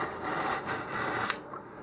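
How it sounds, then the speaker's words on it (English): Sandpaper scuffing the glossy body of a custom-built model rocket where the fins will attach, a short close-up dry rasping rub lasting under two seconds, heard on its own. "I'm going to take a little bit of sandpaper and just roughen the area here where the fins will go"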